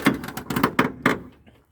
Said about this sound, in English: Door needs lube, obviously